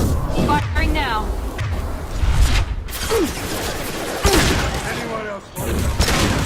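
Gunfire in the sci-fi shooter Mass Effect 2: loud bursts and booming impacts mixed with mechanical clatter, with game character voices calling out over the shooting.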